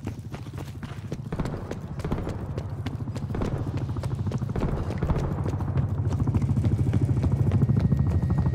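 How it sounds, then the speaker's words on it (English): Attack helicopter in a Call of Duty Domination match on the Garrison map, its rotor chopping in a fast steady rhythm that grows gradually louder, with battle noise and occasional voices underneath. "We're requesting attack helicopter support."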